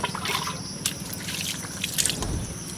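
Water splashes and trickles as it is poured over feet at home, a series of close dripping and splattering bursts over a low background hum.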